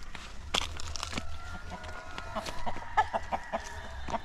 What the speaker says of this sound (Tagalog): So ngayong hapon magpakain tayo sa ating alagang manok.